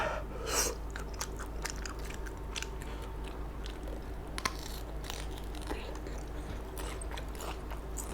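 Close, steady chewing and crunching of shrimp soaked in fermented fish sauce with lots of chili, eaten with bitter gourd, with occasional sharp bites over a constant low hum.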